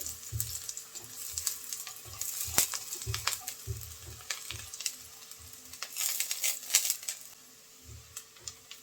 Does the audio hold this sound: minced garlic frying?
yes